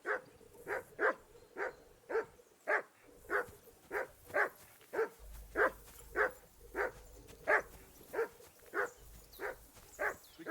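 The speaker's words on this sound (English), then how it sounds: "Jesus, Henry, that barking's driving me nuts." A dog barks repeatedly in Kingdom Come: Deliverance II, about twenty evenly spaced barks in a steady rhythm, moderately close and clear over quiet outdoor background.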